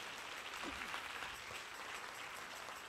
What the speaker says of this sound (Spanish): Si ese es el aplauso, déselo bien al Señor.